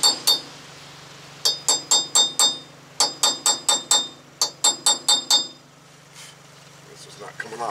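A hammer strikes a chisel while working off a cover on a 2009 Toyota Tacoma 4WD front wheel hub, sharp metallic blows in quick bursts of four or five, close and loud, over a low steady hum.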